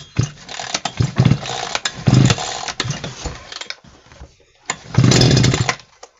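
A Chinese petrol brush cutter's engine sputters in loud irregular bursts, catching and dying away several times before stalling into near silence, then firing again in one more rough burst.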